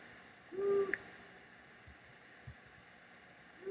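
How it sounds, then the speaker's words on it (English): A male long-eared owl gives a single low hoot, faint and fairly distant against a quiet background, followed by a few soft clicks. "we're going to hear a duet with two long-eared owls"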